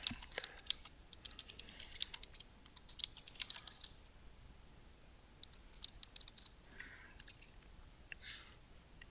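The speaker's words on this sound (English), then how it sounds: "and then I can start typing" Fast, irregular keystrokes on a computer keyboard, close and fairly quiet, coming in bursts with short pauses and tapering off toward the end, while text is entered in AutoCAD.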